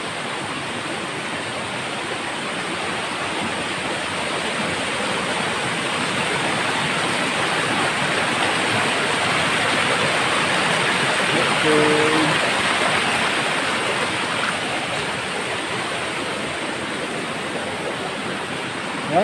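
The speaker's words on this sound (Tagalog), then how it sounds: "Malakas po yung ilog." A strong, fast-flowing river beside a path sounds as a steady, loud broadband rush of water that runs unbroken throughout, with no voices over it.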